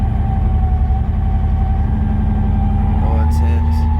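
A turbocharged Lexus SC300 making about 500 wheel horsepower idles steadily with a deep, loud, continuous rumble, and a voice talks over it.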